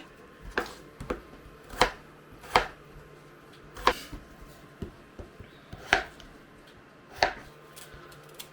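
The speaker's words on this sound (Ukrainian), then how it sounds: "Я почистила три картоплини, наріжу їх на ось такі кубики невеличкі." A knife chopping peeled potatoes into small cubes on a cutting board in slow, steady chops, about a dozen crisp thuds spaced evenly, close by with no talking.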